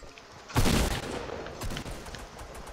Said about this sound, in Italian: Sparo con la pistola.